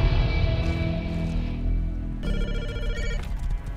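Telephone ringing inside the survival video game Rust, a synthetic ringtone that trills steadily for several seconds at moderate loudness, with a low game ambience underneath and no talk.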